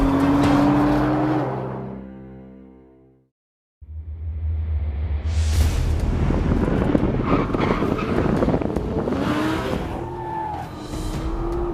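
A 2014 Nissan GT-R Track Pack lapping a figure-8 track: the engine note fades out, then returns loud with revving acceleration, gear changes and tire squeal through corners, close and continuous.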